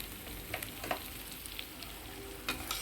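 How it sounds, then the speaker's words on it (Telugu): Chicken pieces fry in a pan with a steady close sizzle, broken by a few soft stirring knocks and scrapes. "చికెన్ ముక్కలు వేగిపోయినాయండి"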